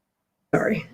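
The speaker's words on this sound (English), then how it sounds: "Sorry, I am still suffering from a cough." A single short, harsh cough bursts out after a moment of silence, close to the mic, then fades quickly.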